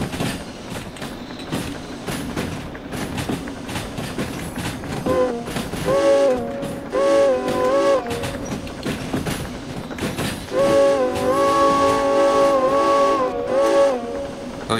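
A steam locomotive in the game Derail Valley rumbles along the track with clanking running gear, and a whistle sounds in several sustained, wavering blasts, first in the middle and again near the end.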